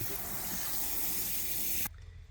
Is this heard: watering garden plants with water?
yes